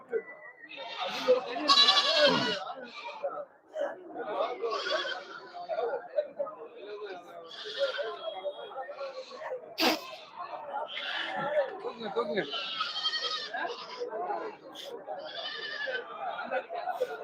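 Goats bleat repeatedly at a busy goat market in Puthiyamputhur, several animals calling near and far amid crowd chatter and people talking throughout.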